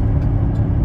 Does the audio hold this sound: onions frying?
no